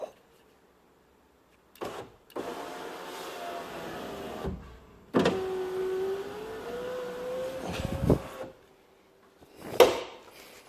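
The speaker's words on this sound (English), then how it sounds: "the new window is in, and this is the regulator working." Car electric window regulator after a new window was fitted, a motor whirring in two passes of a few seconds each, ending in thuds as the glass stops, with quiet gaps and clicks in between.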